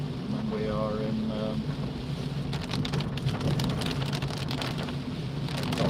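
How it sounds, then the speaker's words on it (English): Steady rain drumming on a car driving along wet English roads toward Wigan, a constant close hiss with road rumble underneath, continuous throughout and louder in the second half. "and lots of rain again."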